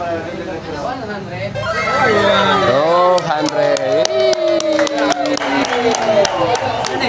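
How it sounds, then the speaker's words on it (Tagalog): A crowd at an event for security guards claps and cheers over a busy murmur, with loud voices and music tones layered on top of the applause. "Yan sabi ko, pumalakpak."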